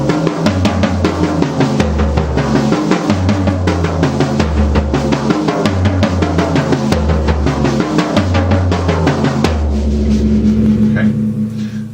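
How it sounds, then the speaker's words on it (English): A drum kit plays a reversal exercise in repeating groups of 2 and 3 starting on the floor tom, with steady fast strokes moving around the toms and cymbals in a looping uneven phrase, loud and close, ending with a ringing decay. "Basically I start on the floor tom playing a group of 3,"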